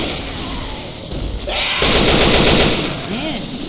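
Heavy automatic gunfire from a big gun in Left 4 Dead 2 erupts midway and holds as a loud, dense burst of rapid shots, with game ambience before and after.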